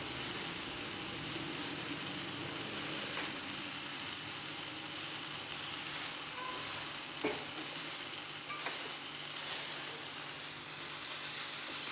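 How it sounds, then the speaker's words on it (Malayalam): Sliced bananas sauté in a pan for Kerala pazham pola. A soft, even frying hiss runs throughout with a few faint clicks from stirring and no voices. "ഇപ്പോൾ ഇതാ പഴമെല്ലാം നല്ല റെഡിയായി വഴന്ന് വന്നിട്ടുണ്ട്."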